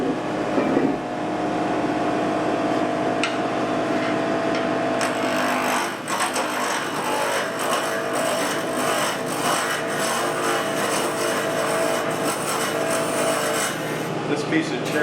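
A wood lathe rounds out a cherry acorn cap, cut from a 120-year-old barn roof beam and pre-drilled, with a continuous close rasping, rubbing cut that holds steady for the whole span.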